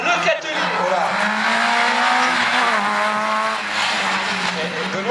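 A race car on a slalom course at Agon-Coutainville sweeps through the gates, its engine revving up and down with tires squealing. Loud and continuous, with a commentator talking over it.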